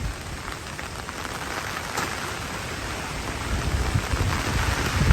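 Heavy storm rain pours down in a dense, unbroken roar of drops on surfaces, loud and close throughout with no voices.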